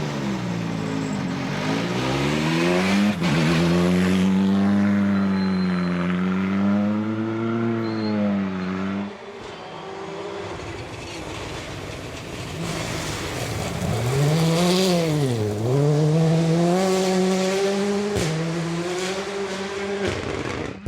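A rally car races through gravel stages. Its engine screams loud and close, rising and falling through repeated revving and gear shifts for about twenty seconds, with a brief drop in level partway through.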